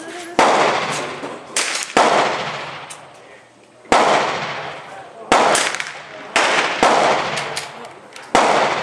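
A gun fitted with a drum magazine fires about eight loud, close shots at uneven intervals, each sharp blast trailing into a long reverberant decay.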